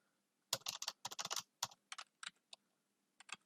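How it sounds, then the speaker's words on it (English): Someone types on a computer keyboard while writing script code, producing bursts of crisp, close key clicks in quick irregular clusters separated by short pauses, with no voices. "So I'm typing as script."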